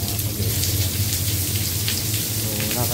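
Heavy rain pours steadily at Las Casas in Bataan, a dense, constant hiss of drops hitting surfaces that stays loud and unbroken throughout.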